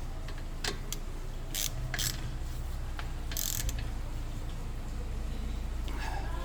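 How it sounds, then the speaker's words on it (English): A ratchet snugging 14mm brake bolts on a Jeep Renegade gives quick bursts of clicking pawl rattle, several short runs spaced across the stretch, close by over a low background hum. "Put the bolts back. 14mm. Tight and snug it."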